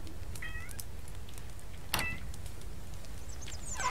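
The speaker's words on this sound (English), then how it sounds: "I don't know if you can hear the kitty cat." A cat in the survival video game Mist Survival gives a few faint, brief meows in the distance over a steady low ambient rumble, with a soft thump partway through.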